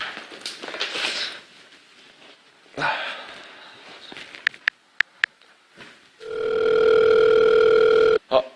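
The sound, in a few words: telephone ringing before a call is answered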